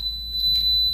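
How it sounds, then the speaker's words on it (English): An Arduino project buzzer rings with a steady, continuous high electronic tone, loud and alone with no talk. "Now as the button is ringing, the buzzer is ringing"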